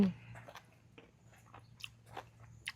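Crunchy bites and chewing of a giant cannonball jellyfish doused in seafood dipping sauce, a few sharp crisp crunches spaced out close to the mic at low volume.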